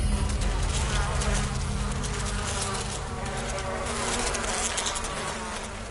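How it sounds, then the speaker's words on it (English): Loud, close swarm of flies buzzing in the VR game Max Affected The Manor, a thick continuous droning hum with layered wingbeat tones that stays steady for several seconds. "Lots of flies."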